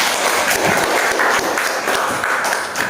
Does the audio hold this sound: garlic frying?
no